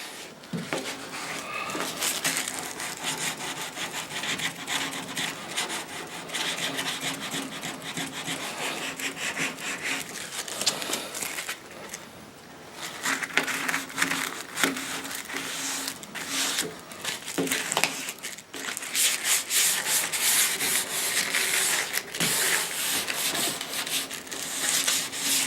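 Steady, continuous rubbing on the wooden neck of an upright bass while cleaning marks off it, a dense scratchy friction sound in long strokes with a brief pause midway, close and fairly loud.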